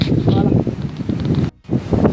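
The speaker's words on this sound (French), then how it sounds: "là il y a trop de vent. Il y a la masse de vent." Strong outdoor wind buffets the microphone in loud, uneven gusts, with a short sudden dropout partway through.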